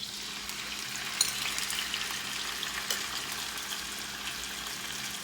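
Marinated chicken fries in a pan with garlic, making a steady, dense sizzle throughout with occasional crackles and pops, close up and with no talking over it.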